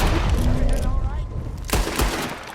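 Gunfire in Red Dead Redemption 2, several sharp shots standing out over a busy game soundscape with a voice heard briefly, the strongest cracks coming near the end.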